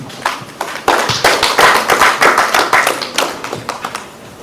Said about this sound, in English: that's another place to clap